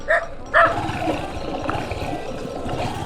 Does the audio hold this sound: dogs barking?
yes